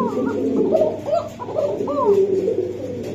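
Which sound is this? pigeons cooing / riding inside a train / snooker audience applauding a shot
pigeons cooing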